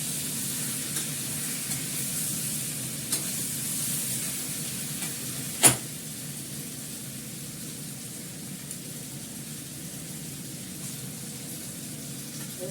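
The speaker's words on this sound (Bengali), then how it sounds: "এবার আমি এর মধ্যে গরম জল দিয়ে দেবো।" Hot water poured into a pan holding turmeric and oil gives a steady, soft hiss and sizzle, with a single sharp clink partway through.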